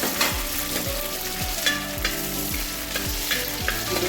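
Mustard seeds frying in hot oil, a loud, close crackle and spatter of popping seeds over a steady sizzle.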